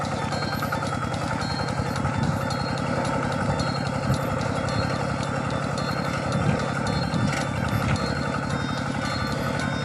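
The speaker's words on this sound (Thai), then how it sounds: "นี่ก็รถไถเดินตามครับ" A walk-behind tractor engine runs steadily at idle, a continuous loud rumbling chug with a regular low-pitched pulse throughout, close by, with no voices over it.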